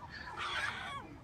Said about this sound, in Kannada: ನೋಡಿ, ಕೋಳಿಗಳಿದ್ದು ನಾಟಿ ಕೋಳಿ ಇದೆ.